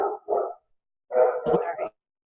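A dog barks in two quick bursts, then a pause, then a longer run of rough, close barks, loud and alone in a quiet room.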